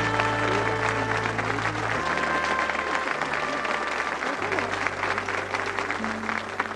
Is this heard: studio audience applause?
yes